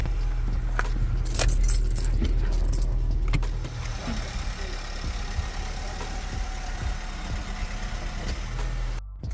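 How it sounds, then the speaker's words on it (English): A 2007 Honda Jazz idles and rolls off service ramps, its engine a steady low rumble with some jangling and clatter early on before the sound settles into a quieter hum. "So now we can drive it off the ramps."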